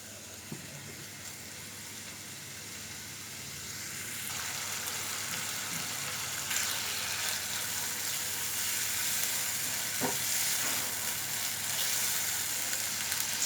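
Chicken frying in butter in a pan sizzles steadily throughout, a dense hiss that swells slightly after the first few seconds, with occasional soft clinks and stirring touches and no talking.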